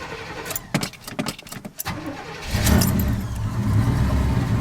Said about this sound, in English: I do have to crank this old truck up. So let's do a Carolina cold start.